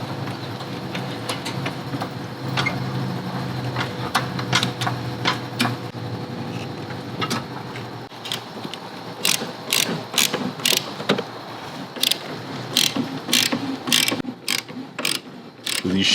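A jack is pumped under a Harley motorcycle, giving rapid ratcheting clicks and mechanical rattles close by, growing sharper and more rhythmic in the second half.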